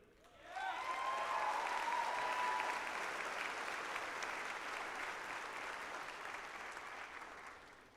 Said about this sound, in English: let us give a round of applause to ourselves and those who have supported us on our journey